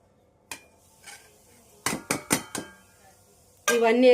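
A spoon mixes salt, turmeric, ajwain, chilli powder and cumin together in a bowl, giving a few sharp, separate clinks and taps against the sides, with a clustered burst in the middle, before a voice begins speaking at the end.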